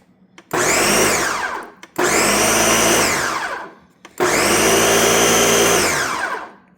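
A Ninja blender pulses potatoes into mashed potatoes: three loud, close motor bursts of roughly one and a half to two seconds each, separated by brief pauses.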